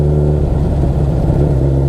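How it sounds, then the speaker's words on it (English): A motorcycle engine runs steadily while riding, with a constant low mechanical drone and hum throughout, loud and close, with no speech. "Just concerned about that noise in the engine."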